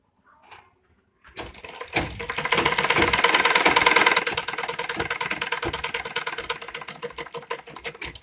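A sewing machine stitches a night suit, starting after a brief pause and then running with a fast, steady mechanical whir and rapid needle clatter, loud and close, with no talking.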